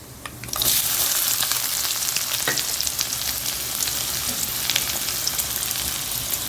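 Onion tossed into okra already frying in a pan, starting with a sudden surge into a dense, loud, continuous sizzle with occasional stirring scrapes and no voices.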